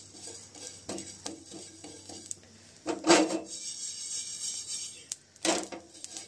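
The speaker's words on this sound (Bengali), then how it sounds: "শুকনো খোলাটাকে খুব ভালোভাবে হালকা করে ভেজে নেব" Fennel and cumin seeds are dry-roasted in a pan, with repeated scraping and stirring strokes of a utensil against the metal and a few louder clatters, close and fairly clear.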